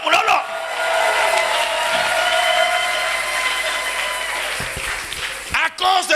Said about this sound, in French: Acclamons très bien le Seigneur.